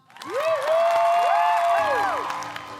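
Audience applause at a children's talent school show, a dense, loud wash of clapping that swells quickly and holds steady for about three seconds, with sustained sliding tones and voices riding over it.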